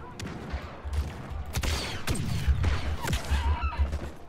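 Blaster gunfire in Star Wars Battlefront 2, rapid bursts of sharp shots with zapping, descending tails, loud and close over a low rumble.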